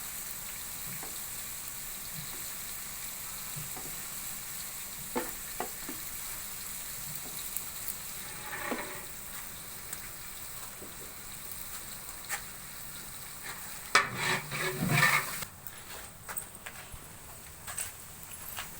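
Ten kilograms of chicken fry and get stirred in a large pan, giving a steady low sizzle with scattered scraping knocks and a louder burst of clatter midway. No one speaks.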